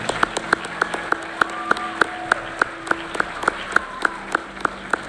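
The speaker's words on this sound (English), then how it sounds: "Let's give them all a round of applause again as they leave the stage." At a regional educators' awards ceremony, the audience claps as awardees leave the stage: steady, fairly regular claps at moderate volume over a soft sustained tonal background.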